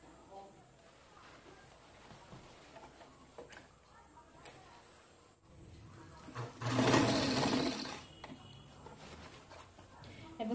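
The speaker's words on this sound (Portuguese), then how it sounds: "já tô aqui na máquina e vamos começar aqui por esse lado, pela parte de cima" A sewing machine runs in one loud, fast, steady burst of stitching, sewing a seam on a ruffled pair of overalls. Someone talks quietly before and after it.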